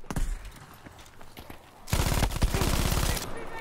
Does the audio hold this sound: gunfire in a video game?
yes